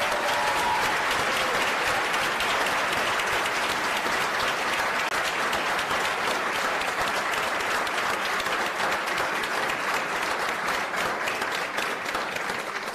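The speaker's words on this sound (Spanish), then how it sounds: "quisiéramos que nos acompañen en reconocerlos con un fuerte aplauso." An audience at a launch event for the creative-economy platforms Directorio Creativo and Emprendedores Naranja gives sustained, loud, dense applause that holds evenly for the full stretch with no break.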